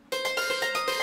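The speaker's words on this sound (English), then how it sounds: "The first thing I can show you is a drum part." Drum kit part played from the BS16i sound font app, a steady pattern of bright, synthetic-sounding hits repeating about every quarter second, close and clean with no talking.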